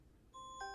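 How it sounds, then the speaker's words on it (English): An electronic alarm starts ringing with steady, bright tones, stepping up to a louder, higher chime partway through over a quiet room background. "sorry, that's my alarm"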